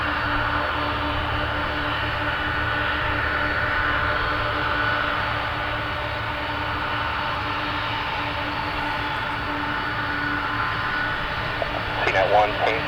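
A Boeing 747 Dreamlifter jet takes off from Paine Field (PAE), a steady roaring engine drone holding for the whole stretch at moderate distance, with a faint radio-like tone beneath and a brief disturbance near the end.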